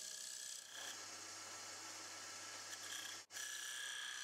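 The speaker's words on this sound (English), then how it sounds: "I'm using a deep fluted bowl gouge going from the centre to the outside" Deep fluted bowl gouge cutting a wooden paper towel base on a lathe, a steady broadband rasping hiss with a constant motor hum beneath, continuous and close, with one brief dropout near the end.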